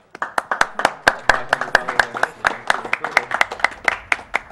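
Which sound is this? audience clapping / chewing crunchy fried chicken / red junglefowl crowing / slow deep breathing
audience clapping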